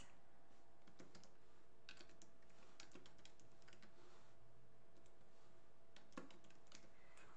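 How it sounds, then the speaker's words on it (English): Typing on a computer keyboard gives a string of faint, light key clicks in uneven bursts, close but very quiet over a low steady hum, with no talk. "So I'm going to type the label for the Y axis."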